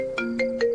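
A phone ringtone plays three short, clear electronic tones in an even rhythm over a faint steady hum, the call going unanswered.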